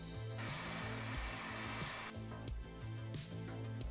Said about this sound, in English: I might want to take a little bit of heat to this, and let's pre-shape it so it'll go on a little easier